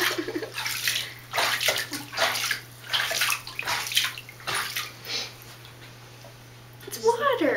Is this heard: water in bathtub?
yes